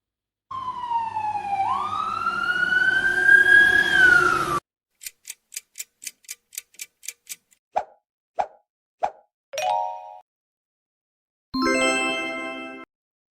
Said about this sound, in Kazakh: Дұрыс, бұл өрт сөндіру көлігі.